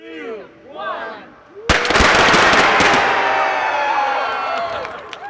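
At a grand opening celebration for an indoor slide park, voices call out before a sudden loud confetti cannon bang bursts out, followed by crackling pops and crowd cheering that fades gradually.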